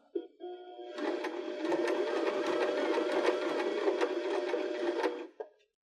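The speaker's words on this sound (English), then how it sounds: "use our foot pedal and do about 8 to 10 stitches" A foot-pedal sewing machine runs one steady, close burst of about eight to ten stitches through cork fabric on a pillow, then stops.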